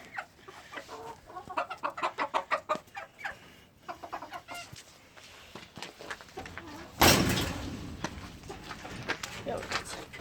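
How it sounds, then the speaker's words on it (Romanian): Hens and a rooster cluck in rhythmic bursts, joined by other fowl sounds and a sudden loud noise partway through, with faint talk in the background. "Uitați cucoșul și găinușile."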